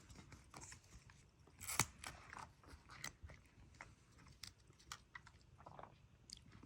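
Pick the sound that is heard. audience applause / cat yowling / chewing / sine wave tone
chewing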